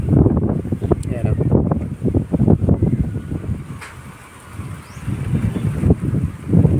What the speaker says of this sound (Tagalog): Tapos sobrang hangin pa guys oh. Lakas ng hangin.